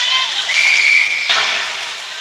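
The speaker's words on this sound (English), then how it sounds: "there's a whistle, likely offside" A referee's whistle at a high school ice hockey game in a holiday tournament: one long, shrill, steady blast lasting about a second, sounding fairly loud over the hiss and murmur of the rink crowd.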